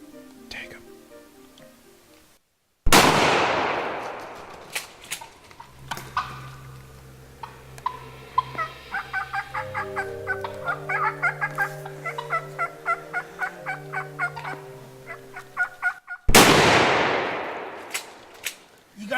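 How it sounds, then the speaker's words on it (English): Two loud, sharp shotgun blasts during a turkey hunt, one near the start and another later, with a turkey's gobbling and people talking quietly in between. "You got him good with that second shot, babe."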